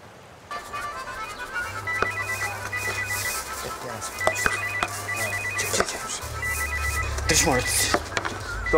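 A telephone rings repeatedly in bursts of electronic trilling over a low hum, with voices and bits of movement around it.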